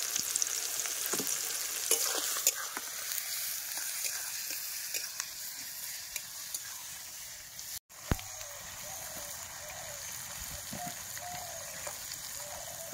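Crushed garlic, ginger paste and cumin-chili paste sizzle and fry in a pot over a wood fire outdoors, a continuous bright hiss with scattered clicks and stirring scrapes, and faint farm animals in the background.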